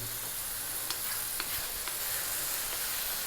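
Tomatoes and fresh green chili fry in a hot pan on the highest heat for a rohu fish curry, giving a steady hiss broken by a few faint clicks of stirring, close and quiet with no voices.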